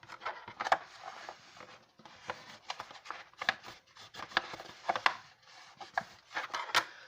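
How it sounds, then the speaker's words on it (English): Paper is burnished down onto a handmade one-sheet paper stationery box. Close, soft, rhythmic rubbing and scraping strokes repeat in quick uneven bursts. "I'm going to go ahead and flip that over and burnish that down too"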